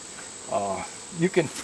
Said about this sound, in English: If you're catching bees, just like these workers, just wait till they sit still, and you can reach right down.